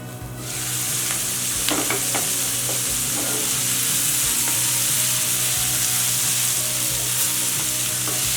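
Onions fry on a high flame in a pan, giving a steady, loud, dense sizzle throughout with a few faint clicks of stirring.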